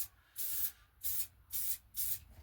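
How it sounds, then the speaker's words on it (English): Four short, evenly spaced hissing bursts of silicone spray from an aerosol can, misted onto lightweight retro Control Tech mountain bike handlebars, close and crisp with brief pauses between each spray. "I'm going to give them a bit of a silicone spray."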